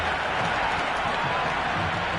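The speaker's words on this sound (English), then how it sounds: "Will you listen to that crowd?" Loud, dense roar of a cricket stadium crowd cheering after a cover drive races for a boundary four in an India versus New Zealand T20 match, a continuous wall of noise with no pauses.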